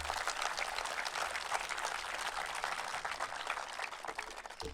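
Crowd applause at a political speech during the Fête des Moissons 2023, a dense, continuous spatter of clapping heard from a distance at modest volume.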